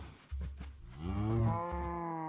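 Cows mooing in the Minecraft video game during a mountain climb, one long, drawn-out moo that rises and then fades, heard alone at moderate volume.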